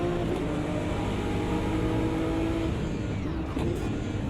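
GT3 race cars accelerating at the Nordschleife in Automobilista 2, a loud sustained engine drone with gear-shift dips near the end, alone without talk.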